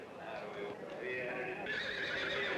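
A horse whinnies loudly at the New Holland, Pennsylvania horse auction, a long neigh with hoof clip-clops and a crowd murmuring underneath as someone narrates over it.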